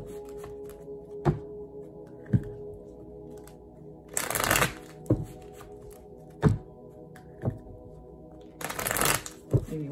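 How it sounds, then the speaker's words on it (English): Tarot cards are shuffled by hand in repeated bursts of riffling, broken up by soft taps and thunks as the deck is squared on a surface. A voice talks intermittently underneath. "Maybe one more shuffle for Sagittarius."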